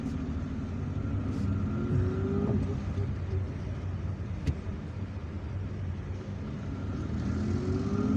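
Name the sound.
car driving in Algiers traffic jam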